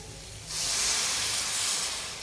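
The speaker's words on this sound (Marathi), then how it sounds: "यामध्ये मी थोडंसं कोमट केलेलं पाणी ऍड करणार आहे" Lukewarm water hits a hot tempering of spices for green moong curry, setting off a sudden loud sizzling hiss that holds steady for a couple of seconds and then eases slightly, with no speech.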